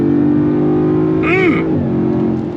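A loud 2024 Range Rover Velar SUV engine roars under heavy throttle close by, its pitch climbing and then dropping with a gear shift before holding steady.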